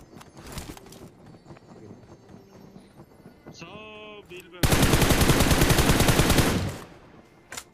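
Video game gunfire aimed from a church, heard as a brief stutter of shots followed by a long, loud continuous burst of automatic fire that dominates the middle and end of the passage, with game ambience and some tonal effects earlier.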